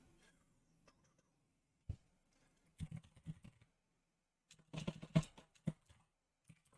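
Scattered keystrokes on a computer keyboard, a few isolated clicks followed by short bursts of quick typing, quiet and close, with no talking.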